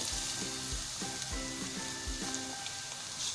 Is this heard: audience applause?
no